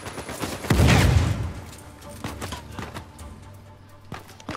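Gunfire in Uncharted 4: a heavy burst of shots early on, then scattered single cracks and impacts trailing off, fairly loud with no talking.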